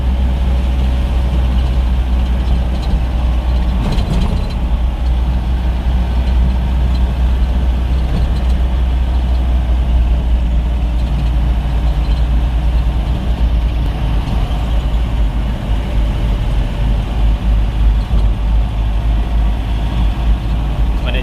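A vehicle engine labours steadily up the steep, winding Anuskura ghat road, its low heavy drone continuous and close throughout, with a voice talking over it.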